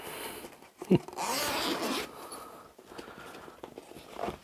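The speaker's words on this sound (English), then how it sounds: "I've never had to unzip a product before" A zipper opens on the carry bag of a Worx WX516 saw, giving a brief, close rasping pull followed by soft handling rustles, with no speech.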